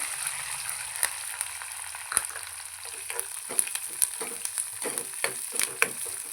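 Curry leaves and onion fry in a pan for upma, giving a steady sizzling hiss broken by sharp crackles and pops and the occasional scrape of stirring, close and loud with no talking.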